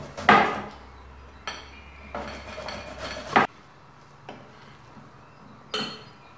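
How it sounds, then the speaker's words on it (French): A cassava tuber is rubbed by hand against a grater in a home kitchen, making a few separate scraping strokes, close and moderately quiet, with clinks from the utensils between them. "Je râpe ma tubercule de manioc"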